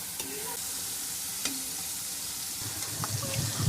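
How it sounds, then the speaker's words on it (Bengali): Green chillies, snipped into pieces, fry with spices in hot oil in a pan, a steady close sizzle broken by a few stirring clatters and scrapes, with no one talking. "কাঁচামরিচ দিয়া হনে এই মশলার লগে একটু ভাজা ভাজা করুন"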